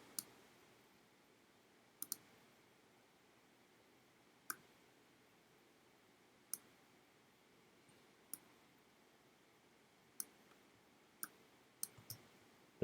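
Sparse, sharp mouse clicks sound alone against quiet room hiss while drawing with the pen tool in Adobe Illustrator, single and double clicks spaced a second or two apart.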